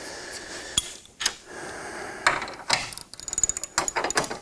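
Ratchet wrench tightening bench vise mounting bolts into a wooden bench, with close, loud ratcheting clicks in short bursts and a rapid run of clicks near the end, no talking.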